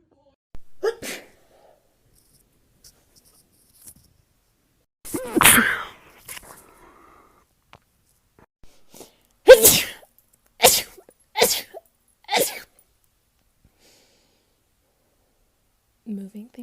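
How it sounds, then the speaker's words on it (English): Someone sneezes repeatedly from dust in a laundry room, several sharp, close bursts spread out with quiet gaps between them, a few clustered near the middle. "All the dust that's up in this laundry room is making me sneeze."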